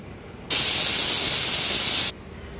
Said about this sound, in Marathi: कुकरला आपण आता 4 ते 5 शिट्ट्या काढून घेऊया